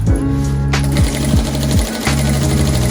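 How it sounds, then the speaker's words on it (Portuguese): A sewing machine stitches the side of a small waterproof organizer pouch, a loud, steady, rapid mechanical chatter that runs throughout with a few brief dips in pace. "Nessa parte da lateral, a gente vai costurar um pedacinho dela."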